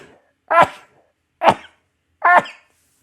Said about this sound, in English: I feel like I gotta fucking sneeze.